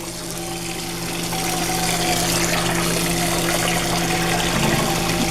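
Tap water runs steadily into a sink while a burnt pot is rinsed, a continuous rushing splash with a low pump-like hum beneath, close and fairly loud with no voices.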